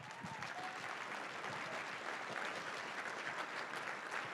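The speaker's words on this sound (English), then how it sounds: "give them a round of applause" A conference crowd at the SAINTCON 2022 closing claps continuously, a steady wash of applause at moderate distance with no break.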